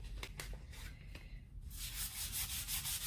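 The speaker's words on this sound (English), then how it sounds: "Before we emboss this, we need to prep our card with our embossing buddy." Close rubbing on card stock, an anti-static embossing pad swiped back and forth before heat embossing, with short scuffing strokes at first and then a steadier, brighter rubbing texture, alone without talk.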